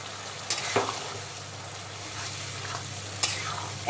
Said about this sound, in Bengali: পুরো মশলাটাকে খুব ভালো করে কষিয়ে একেবারে ভাজা ভাজা করে নেব